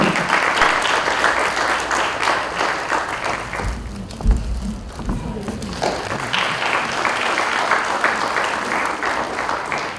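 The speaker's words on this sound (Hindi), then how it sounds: "तालियां।" Theatre festival audience applauding steadily for about ten seconds, a dense, loud wash of many hands that dips briefly near the middle before swelling back to full strength.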